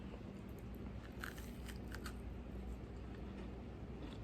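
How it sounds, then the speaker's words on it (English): A chewy brown sugar cookie is bitten into, giving a few soft, close crunches and small crackles against a steady background hiss, with no speech. "Now I'll take a bite from the inside, and you can see that you won't hear the crunch. It'll be more of a chew."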